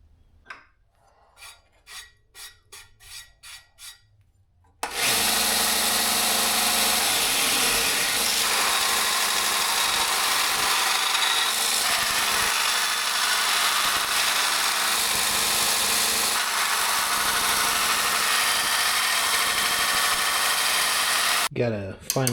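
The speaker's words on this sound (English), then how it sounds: "Let's do some grinding on it." A knife blank is ground down, with a few light taps followed by a loud, steady, harsh grinding that runs continuously for most of the clip and cuts off near the end.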